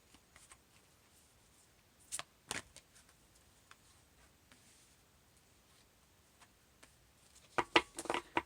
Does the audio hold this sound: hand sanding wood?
no